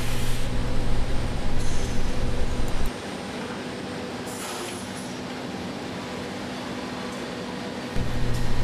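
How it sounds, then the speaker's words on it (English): A Busellato CNC router in a cabinet-manufacturing shop runs unattended, giving a steady, loud machine hum and whir that drops to a lower, quieter drone midway before rising again. "the Busellato router is running unattended"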